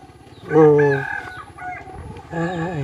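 A rooster crows loudly with a long drawn-out call, followed by a second crow after a brief pause, in a Thai village setting with quieter clucking between.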